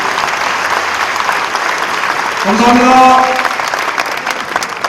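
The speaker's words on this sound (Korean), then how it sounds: "다 같이 일어나셔서 박수 한번 해주시기 바랍니다" A standing assembly of pastors and elders at a church denomination's general meeting breaks into loud, steady applause from a large crowd, with someone briefly speaking over the clapping near the middle.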